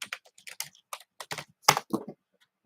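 Quick bursts of keystrokes on a computer keyboard, close and crisp, come in uneven clusters with short pauses between them.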